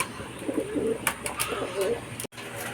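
Racing pigeons cooing at the loft, soft low coos and fluttery calls close by, mixed with someone speaking and a few sharp knocks.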